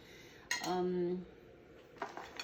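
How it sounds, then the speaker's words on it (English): A metal spoon clinks and scrapes against a bowl while stirring peanuts with chili sauce, a sharp tap followed by a brief scraping stir and another light clink, close and clear with no talk. "So I'm going to stir them together."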